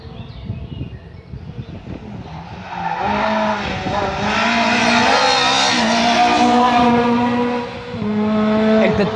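A large rally car, likely a Mitsubishi or Subaru, roars past at a 2016 French rally stage, engine building from a distance to a loud close pass with tyre noise, then fading briefly before surging again.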